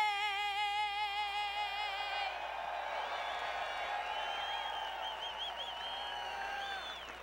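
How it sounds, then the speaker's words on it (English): Crowd applause at Bristol Motor Speedway after the national anthem before a 2009 Camping World Truck Series race, a steady, broad wash of clapping from a large stadium crowd following the anthem's final sung notes. "Thunderous applause from Thunder Valley"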